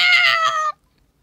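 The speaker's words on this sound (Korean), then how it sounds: "천년 묵은 그 늙은 고양이가 마지막 울음인 양 크고 길게 울었다" An old cat lets out a single long, loud yowl, a strained, bright cry held for most of a second before stopping abruptly into silence, close and prominent with nothing else heard.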